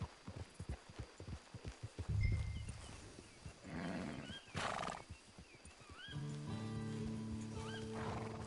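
Horse in a video game on an open range near a camp, neighing and whinnying at moderate volume with clip-clopping hooves and a low background hum, no talk over it.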